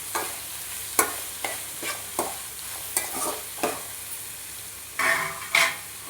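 A spoon scrapes and knocks against a pan as tomatoes fry in oil for crab curry, with a steady soft sizzle underneath and a series of sharp stirring clacks at irregular intervals, close up with no talking.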